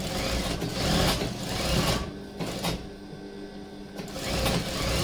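A sewing machine runs steadily at close range, stitching a lab seam along the top edge of a single-frill petticoat, with a brief pause in the middle before it starts up again, and no one talking.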